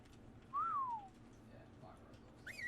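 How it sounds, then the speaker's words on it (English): In the video game Ark, a single short whistle command to a wyvern rises and then falls in pitch, clear over a quiet game background with faint chirps afterward. "We are going to whistle the wyvern"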